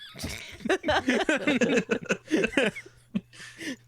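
A psychedelic cat stream gift alert plays a string of close, loud, warbling meows and yowls, with a low steady hum running underneath.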